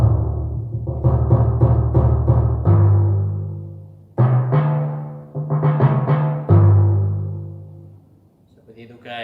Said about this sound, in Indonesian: Timpani ini bunyinya seperti ini guys.